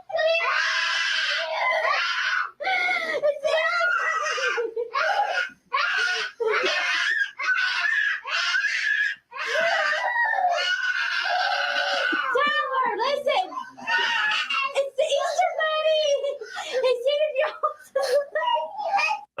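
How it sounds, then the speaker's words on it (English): A child screams and wails almost without a break for about twenty seconds, with loud, high cries that rise and fall and include a few short gasping pauses. "We had a full minute of screaming."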